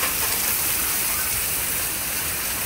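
Rain keeps falling just after a tornado and thunderstorm. It makes a steady, dense hiss that stays constant and fairly loud throughout, with no voices.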